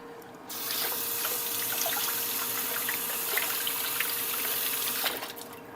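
Running kitchen tap rinsing food in a sink, a steady close hiss of water with small splashes for about five seconds, then cutting off near the end.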